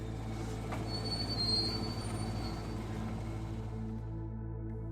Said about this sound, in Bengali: ট্রেনটা ঠিক সময় মাঝদিয়া স্টেশনে গিয়ে পৌঁছালো।